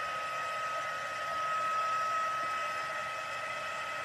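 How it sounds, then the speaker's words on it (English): An embossing heat tool blows hot air in a steady, continuous whir with a faint constant whine, unbroken and alone throughout. "you want to use your heat tool, your embossing gun, and you're going to heat that"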